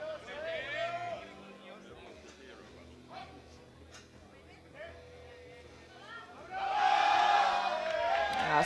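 A crowd at the 2025 European Open Classic Powerlifting Championships cheers and whoops for a Spanish lifter opening at 265 kilos, the noise swelling loudly near the end under a commentator's voice.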